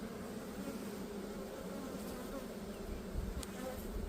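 Dense, steady buzzing of many honey bees clustered at an open hive, close and continuous with a few louder individual passes, no talk.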